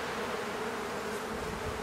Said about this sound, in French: les abeilles à l'entrée vont battre le rappel. Et elles vont toutes monter dans la ruche.